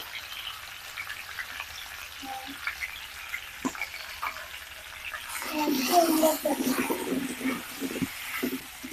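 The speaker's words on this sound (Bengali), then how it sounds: "আলু আর কুমড়োটাকে এইভাবে কিছুক্ষণ ভেজে নিচ্ছি" Potato and pumpkin chunks fry in hot oil with ginger, green chili and turmeric, a soft steady sizzle that swells louder and busier partway through as the pieces are stirred.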